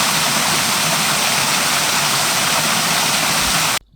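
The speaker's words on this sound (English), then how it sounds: "And that's when I heard it. Before I saw it, a second waterfall." Hidden waterfall in Bedgebury Forest fed by iron-stained chalybeate spring water, heard as a loud, steady, close rush of falling water that cuts off abruptly at the end.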